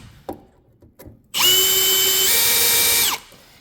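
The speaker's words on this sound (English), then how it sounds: "we're going to open this up by taking these 4 screws off" A power driver backs screws out of a Noritz tankless water heater cover: a few faint clicks, then a loud, close motor whine lasting almost two seconds that drops slightly in pitch before stopping.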